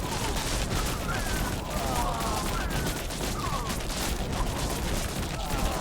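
Buggos 2 real-time strategy battle, with a steady dense wash of video game gunfire and rattling bursts as turrets, including a flamethrower turret, come under attack, loud and continuous throughout.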